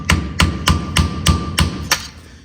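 A hammer taps a part off a Land Rover Discovery 1 axle while fitting chromoly axle shafts and CVs, striking seven sharp metallic blows at an even pace of roughly three per second, up close, the last one softer.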